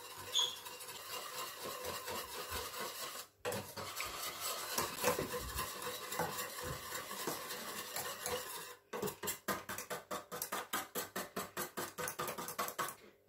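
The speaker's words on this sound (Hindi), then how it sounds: "विस्क करेंगे सारी चीजों को" Whisking cocoa powder with plain flour in a bowl for chocolate sauce, a quiet close metallic scraping and rattling that turns into a quick regular rhythmic beating near the end, with no talking.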